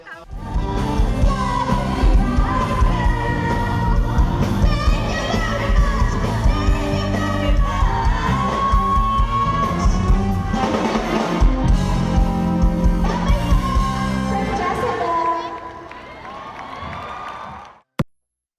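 A large crowd cheers, whoops and shouts at an outdoor show, a dense, steady roar that holds for about fifteen seconds before fading quickly to quieter murmuring, with one sharp final hit.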